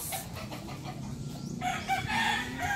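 A rooster crows among clucking chickens, fairly close, with a brief quieter gap midway before the calls pick up again.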